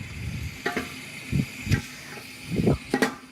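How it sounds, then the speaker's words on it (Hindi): Beef trotters (paye) frying in a spice masala in a pot, a soft steady sizzle broken by several louder stirring scrapes and bursts of hiss, close by with no talk. "अब इसमें पाए शामिल करके उन्हें भून लेंगे।"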